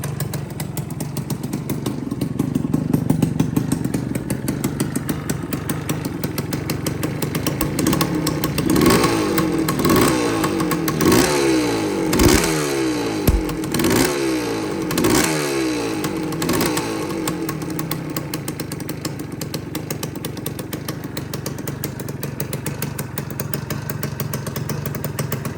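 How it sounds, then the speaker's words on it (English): A 1980 Suzuki TS185 two-stroke motorcycle engine with a freshly rebuilt top end runs and idles steadily close by, with a brief stretch of uneven blips and revs in the middle before it settles back to an even idle. "It's running and idling without the choke on now."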